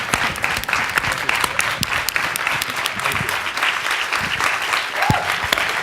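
An audience applauds Quincy Troupe at a conversation event: steady, dense clapping fills the whole stretch at an even level, close and lively, with no voices rising above it.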